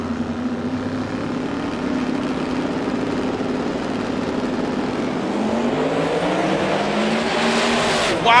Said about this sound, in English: Wow, both of them in simultaneous wheel stands to the stripe.